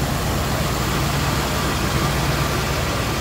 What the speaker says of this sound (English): Engine sounds great, smooth runner.